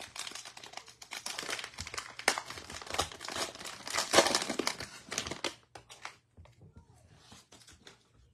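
A Donruss football card pack being torn open, its foil wrapper crinkling and crushing loudly and continuously up close for several seconds before fading to quieter rustles, with a voice talking over it.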